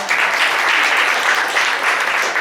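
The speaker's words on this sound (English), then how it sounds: "Give them another big round of applause." Dense, steady applause from an outdoor university homecoming crowd, continuous clapping at full strength for the whole stretch with no voices breaking through.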